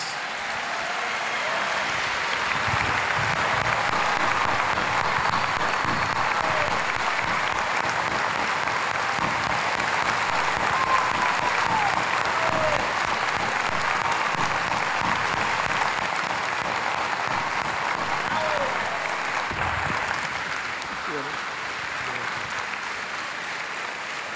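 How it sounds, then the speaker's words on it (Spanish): Sustained, loud applause from a large audience fills the whole stretch, a dense steady clapping that tapers slightly near the end. "Recibamos con un fuerte aplauso"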